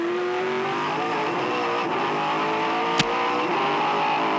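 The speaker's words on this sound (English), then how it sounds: "Have a listen to the engine as he comes out of here." A 2002 V8 Supercar at Sandown accelerates out of a turn, a loud, steady engine roar with a rising harmonic whine that holds throughout and a sharp click near the end.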